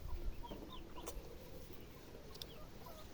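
Chickens cluck softly here and there over a quiet outdoor background with low rumbling noise.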